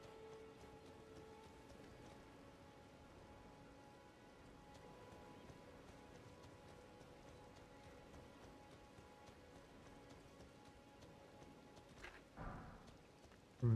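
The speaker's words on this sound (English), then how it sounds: "Oh, it's raining." Steady rainfall patters across the scene in a video game, a soft, even wash of drops that holds throughout, with a few faint footstep-like knocks and a louder thump near the end.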